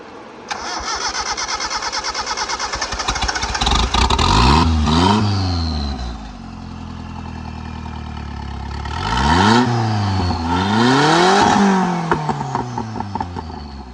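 A Suzuki Cappuccino's small engine cranks, catches and revs loudly close by, then idles and climbs through several strong revving pulls as it drives off, no talking.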